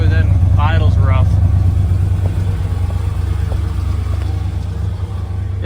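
A rough-running older Ford OBS truck engine, steady low-pitched rumble close by, with a slight stumble before settling into an uneven idle; someone talks over it early on.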